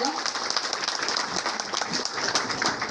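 Steady applause from a crowd at an award ceremony, a dense wash of clapping filling the whole stretch at even loudness.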